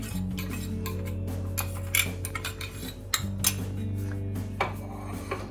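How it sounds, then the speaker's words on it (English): A mango phirni rice mixture is stirred in a pan, with repeated scraping and light metallic clinks of the spoon against the pan over soft, steady background music. "We mix this well, ensuring nothing gets burnt."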